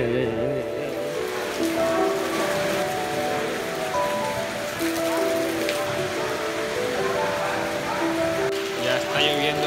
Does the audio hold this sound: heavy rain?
yes